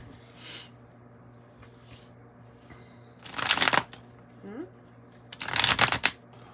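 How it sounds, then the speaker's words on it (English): Two loud bursts of a deck of playing cards being riffled and shuffled for an oracle reading, separated by a pause, with faint quieter shuffling earlier and steady low background hum. "One more, and then we're done with the shuffling part."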